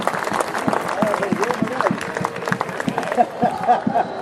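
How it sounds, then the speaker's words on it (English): Scattered clapping from a large crowd at a football stadium before kick-off, a broad, textured patter with a murmur of voices mixed in, lasting throughout. "the players come over from the warm-up to applaud the fans who've made the trip north"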